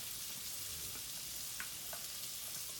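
Garlic frying in a pan as the start of a gravy for smothered pork chops, a steady soft sizzle with faint crackles and a few small pops, close but quiet, with no voices.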